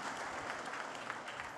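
A tech-conference audience breaks into faint, steady clapping, heard from a distance and lasting only a moment.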